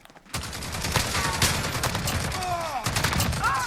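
An L86 LSW light machine gun with a 60-round magazine fires sustained automatic bursts in Call of Duty Modern Warfare, close and loud, a rapid, continuous rattle of shots with brief pauses and ringing game effects.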